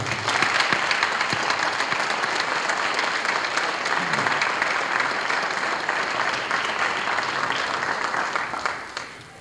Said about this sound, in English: I believe another round of applause is in order.